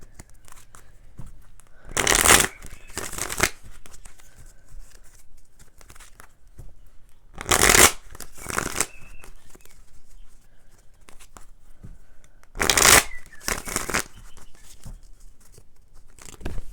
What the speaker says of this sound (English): But let's pull some tarot cards.